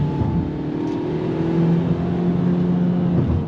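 A pickup truck accelerates hard in sport mode, its engine note climbing steadily in a loud, continuous whir and roar heard from close by, with no talking.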